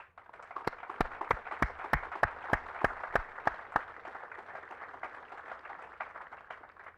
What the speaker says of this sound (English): let's give our family and friends a round of applause